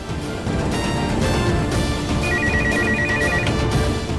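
A landline telephone rings in repeated electronic trill bursts, loud and continuous over a busy background of music and ambience, with no one speaking.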